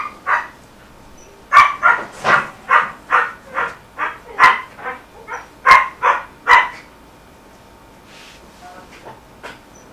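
A dog barks in a quick run of about a dozen close, loud yips and barks, then falls quiet for the last few seconds.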